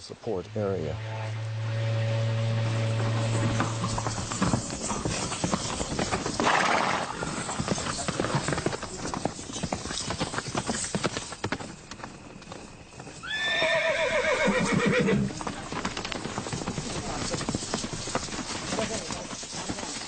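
Horse hooves clip-clop steadily while a horse gives a loud, close neigh midway, heard with someone narrating over a low tone early on.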